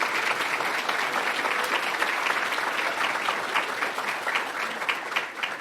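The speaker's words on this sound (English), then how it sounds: "Everybody just give them a round of applause." A council meeting audience applauds a 10U softball team, with many hands clapping in a steady, moderately loud round that holds throughout and picks up slightly toward the end, with no talk over it.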